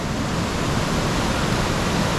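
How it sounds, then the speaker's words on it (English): A river swollen with a lot of water rushes down near Toorongo Falls, making a loud, continuous broadband roar of churning water with no voices. "The river coming down, a lot of water coming down."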